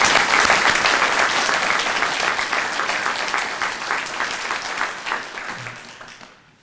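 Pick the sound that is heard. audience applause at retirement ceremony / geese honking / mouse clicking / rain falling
audience applause at retirement ceremony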